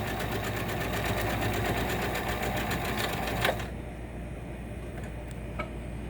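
A sewing machine runs a reinforce stitch at a fast, steady mechanical rattle, then stops abruptly partway through, leaving a quieter hum and a couple of faint clicks.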